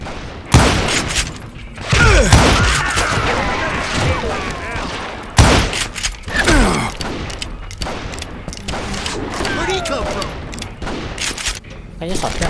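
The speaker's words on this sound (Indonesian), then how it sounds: "Kayaknya shotgun kan?" Heavy gunfire fills a shootout in the Wild West game Call of Juarez Gunslinger, with booming blasts and rapid volleys that keep going throughout, under game voices and continuous background noise.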